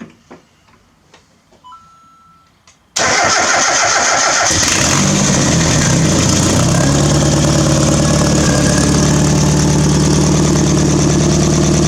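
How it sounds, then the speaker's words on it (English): A forged Mazda Miata engine fires up on its first start after a few seconds of near silence, then settles into a loud, steady idle with a rough exhaust note and a ticking rattle. "starting the engine, and we're going to let it run for 30 to 60 seconds, and then shut it off"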